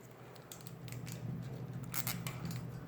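A small plastic zip tie tightened on the back of a loose dishwasher basket clip, a quiet series of rapid ratcheting clicks in short bursts.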